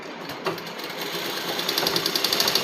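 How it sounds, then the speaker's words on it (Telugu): Close, loud sewing machine stitching lining fabric at the bottom of a frock, a fast even needle chatter that picks up speed and runs alone without speech. "వీడియోలో ఈ స్టిచ్చింగ్ కూడా చూపిస్తున్నాను"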